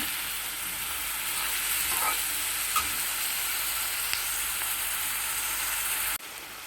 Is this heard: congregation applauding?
no